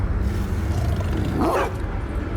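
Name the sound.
dog barking in the video game The Casting of Frank Stone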